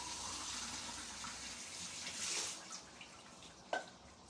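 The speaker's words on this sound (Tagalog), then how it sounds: "Patingin nga kung paano magsabon ng mga plato. Saka ng baso." A tap runs steadily as a child washes plates and glasses at a home sink, a soft continuous water rush with faint clinks and one sharper knock near the end.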